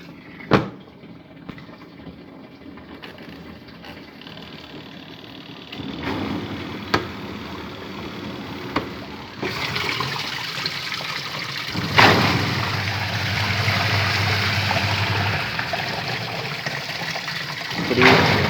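Water fills the tub of an Innovex DSAN-65 semi-automatic washing machine. Quiet handling knocks and clicks come first, then a steady broadband rush of pouring water swells in midway and continues to the end.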